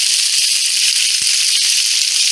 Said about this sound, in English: the pan is ready when you hear the sizzle